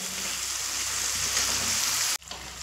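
Potatoes sizzle in spice paste over a medium flame for a pointed gourd and prawn curry, a steady close frying hiss that cuts off abruptly just before the end, with no one speaking.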